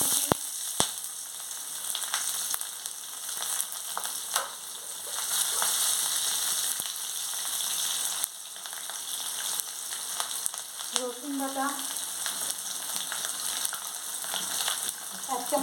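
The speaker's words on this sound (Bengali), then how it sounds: "আমার তেল গরম হয়ে গেছে আমি এবার এই গোটা গরম মশলার মধ্যে দিয়ে দিচ্ছি দিয়ে দিচ্ছি একটু পেঁয়াজ" Whole garam masala and onion fry in hot oil with a soft, steady crackling sizzle, punctuated by occasional clicks and scrapes of stirring, fairly quiet and close.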